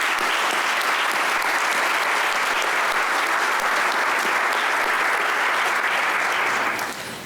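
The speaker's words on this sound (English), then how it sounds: "please join me in a round of applause for Mr. Dale Dahl and the LHS Jazz Ensemble for their fine performance this evening" Steady applause from a school audience for a high school jazz ensemble after its evening performance, dense and sustained clapping at an even level throughout, then easing off at the very end.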